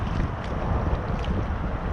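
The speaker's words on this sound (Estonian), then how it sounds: "Räme tuul on endiselt Maardu järve ääres." Strong wind buffeting the microphone beside Maardu lake in Estonia, a loud continuous rumbling roar with gusty low-end blasts throughout and no voices.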